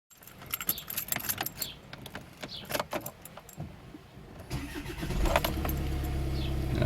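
Keys jangle close up, then a Kia Sportage engine cranks and starts after its EGR valve refit, settling into a steady idle for the final seconds.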